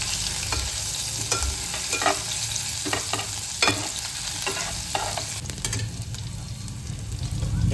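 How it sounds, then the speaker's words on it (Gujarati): Ginger garlic paste and cumin sizzle in hot oil as a spoon stirs the pan for a dhaba-style Ratlami sev curry, a steady close frying hiss broken by repeated scraping stirs. "એમાં આદુ લસણ પેસ્ટ ઉમેરી દઈશું."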